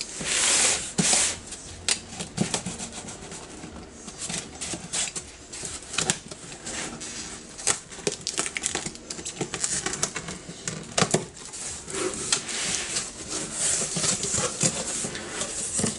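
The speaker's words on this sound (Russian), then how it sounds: "Итак, давайте откроем упаковочку." Cardboard packaging box for JBL Arena 6IC in-wall speakers being opened, with irregular crinkling, tearing and scraping rustles throughout, close and moderately loud with no talking.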